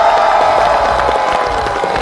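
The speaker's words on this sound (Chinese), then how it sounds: "再次掌声鼓励" An audience at a comedy show claps steadily and densely all the way through, a loud, continuous wash of applause with no voices standing out.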